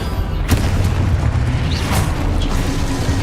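A Confringo blast spell in Hogwarts Legacy bursts with a deep, rumbling boom amid dense game effects, a few sharper pops and cracks breaking through the continuous low roar.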